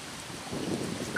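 Strong wind roars and buffets the microphone in a steady, dense wash of noise, with rain and water sounds blended in, during a storm on a river while fishing; no one speaks.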